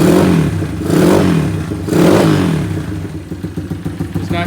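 A Honda XR100 motorcycle built for ice racing and supermoto, with a deep burble, revs up twice in strong bursts, then settles into a choppy, close idle.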